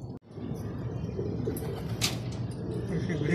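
Racing pigeons coo steadily at a loft during a training race as birds arrive, soft layered murmuring close by with a brief flutter and a faint chirp partway through.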